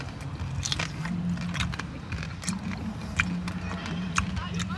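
Crunchy, crispy bagnet pork fried until crackling is bitten and chewed up close, sharp crackly crunches scattered over a steady background hum while people talk.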